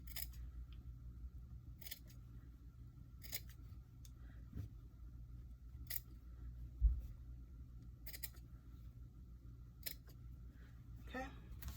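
Scissors snip through a sublimation-printed peek-a-boo shirt in a few short, sparse cuts, close and fairly quiet over a low steady background hum.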